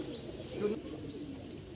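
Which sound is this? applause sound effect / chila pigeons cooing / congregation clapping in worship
chila pigeons cooing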